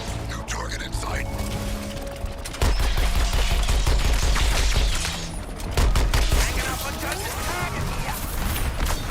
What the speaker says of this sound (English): now the snipers are targeting me, even though time is slowed down